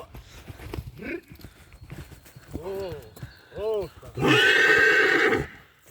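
A horse, an Absztyfikant stallion, neighs loudly near the end after softer snorts and short nickers, with faint hoof clopping and a voice murmuring in the background.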